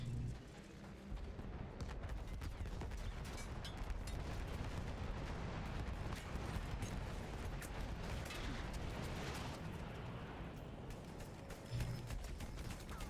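Bombing and artillery explosions in the video game Battlefield 1, a dense, continuous rumble of distant blasts and gunfire with no clear pauses and no talking.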